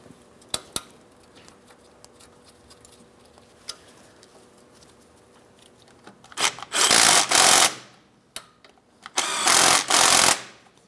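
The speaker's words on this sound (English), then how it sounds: "We're going to start these in and we'll make sure they're nice and tight." A 2015-2025 Ford Transit 250 rear brake hose bracket has its mounting bolts driven tight: a few faint metallic taps, then two loud, sustained rattling tool bursts, each lasting about a second, close by.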